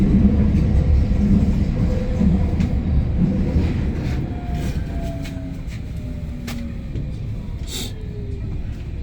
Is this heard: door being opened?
no